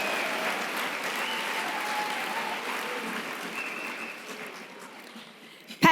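A dinner audience at a benefit gala applauds steadily, a broad wash of clapping from a sizable room that slowly tapers off, with a sharp noise right at the very end.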